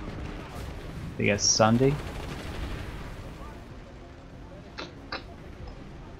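A short burst of gunfire in the shooter game Planetside 2, a cluster of sharp cracks followed by a couple of fainter isolated shots, with a brief spoken line nearby.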